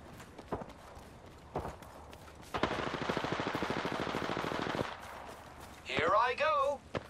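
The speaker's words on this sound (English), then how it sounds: "The enemies are shooting at me." Enemy gunfire in Apex Legends: a few isolated shots, then a long rapid automatic burst of roughly two seconds, followed by a couple more shots and a whooshing game effect.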